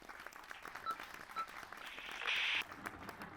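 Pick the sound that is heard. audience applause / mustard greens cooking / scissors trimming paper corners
audience applause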